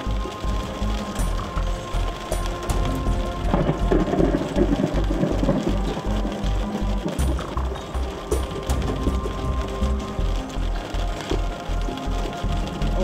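A supercell thunderstorm with steady heavy rain and rolling thunder, loud and close, with regular rumbling pulses throughout and no talk.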